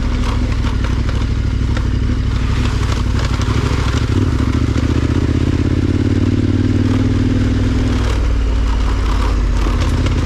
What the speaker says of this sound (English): That's my chain rattling, by the way. Oh, and I think my headlight rattles around a bit.